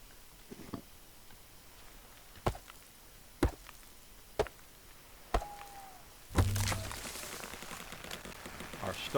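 A stone axe chops a tree in the video game Sengoku Dynasty: five sharp, evenly spaced wooden thunks, followed by a louder crash and rustle as the tree falls, with no talking.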